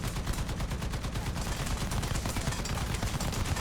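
Rapid, sustained anti-aircraft gunfire from an AMX-13 DCA in a tank video game, a fast, even stream of shots that stays loud and continuous from start to finish.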